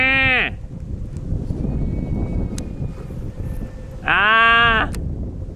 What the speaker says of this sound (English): There's goats in there.